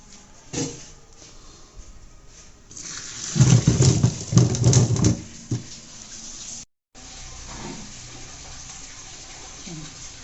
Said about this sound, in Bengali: আমি এখন এগুলোকে পানি ঝরিয়ে নেব।